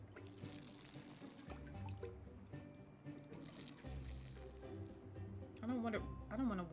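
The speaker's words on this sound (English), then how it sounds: "I don't want to water them too much." Water pouring and trickling as plants are watered in Desperate Housewives: The Game, a soft continuous splashing stream beneath game music and a person talking.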